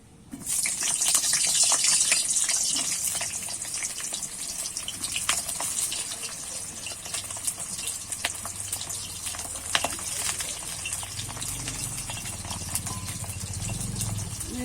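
Washed, cut pointed gourd pieces dropped into hot oil, giving a loud, steady sizzle that bursts in at the start and keeps hissing evenly, close up and alone.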